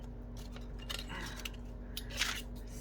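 Scissors snip through paper during a craft project, a few short, crisp cuts close by in a quiet room.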